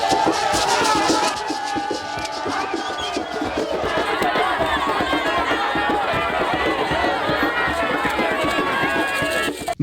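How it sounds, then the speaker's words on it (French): A jubilant crowd in Bukavu awaiting a boat's arrival, a loud, dense mass of voices and shouting close by, with rapid footfalls or rhythmic stamping throughout. "une foule en liesse attend l'arrivée de cette bienfaitrice"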